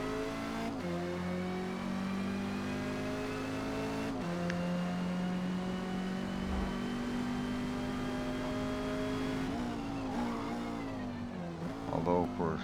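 A Porsche 550 Spyder in Forza Motorsport drones steadily around the Spa circuit, its engine note shifting with gear changes, with a brief tire squeal late on; continuous and fairly loud, no talk over it.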